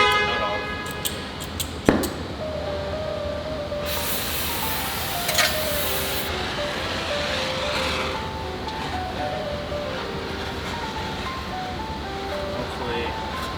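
A torch heats a seized strut top nut on a Toyota, giving a steady roaring hiss that runs through the clip. There are brief brighter bursts and a sharp knock early on, with a voice talking over it.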